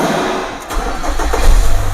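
A fuel-injected car's engine cranks briefly with the starter, then catches and settles into a loud, low rumbling idle close by.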